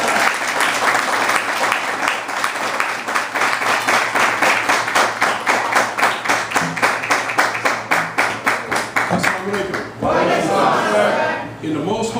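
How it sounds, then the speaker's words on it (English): A crowd at a religious address gives a long round of applause for a minister, the clapping settling into a rhythmic unison beat before breaking up, and a voice rises over the fading claps near the end. "bring him up with a long, hard round of applause"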